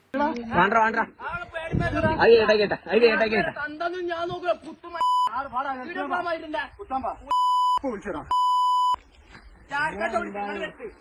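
Three flat, steady censor beeps cut into Malayalam speech: two short tones and a longer one, each replacing abusive words, with talking and a chuckle before and after.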